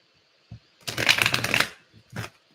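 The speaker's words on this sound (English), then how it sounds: "throw 5 fun, helpful cards for our friend L joining us on a Saturday" A deck of tarot cards being riffle-shuffled by hand, a soft flutter of cards lasting about a second, with a few taps of the deck before and after, close and clear.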